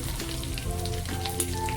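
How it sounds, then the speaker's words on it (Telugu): Six hot Guntur dried red chillies, broken by hand, fry in hot oil as tempering for a tomato chutney, giving a steady close crackling sizzle with small pops. "ఎండుమిరపకాయలు పోపుకి తగినట్టు నేను ఒక 6 వేసుకున్నాను"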